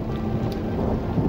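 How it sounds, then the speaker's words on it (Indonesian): Steady rain falls with a low rumble of thunder underneath, dense and continuous with no voices. "Aduh, hujan begini"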